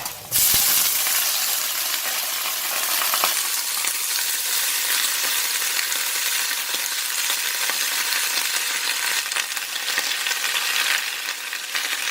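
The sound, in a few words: cabbage being stir-fried in a pan with garlic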